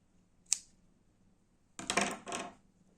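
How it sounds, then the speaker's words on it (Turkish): Scissors snip leftover yarn while making knitted slippers: one sharp metallic click, then after a pause two quick close cutting snips, in an otherwise quiet room. "Şuradaki artan ipimi de kesiyorum şu anda."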